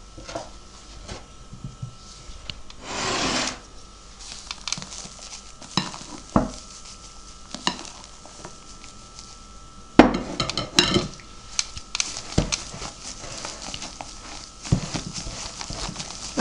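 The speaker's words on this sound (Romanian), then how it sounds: "Amestecăm cu albușurile spumă." Cake batter for a Romanian semilună cake being folded together with beaten egg whites, giving soft, irregular scraping and knocking strokes against a bowl. The strokes are close up and get busier partway through.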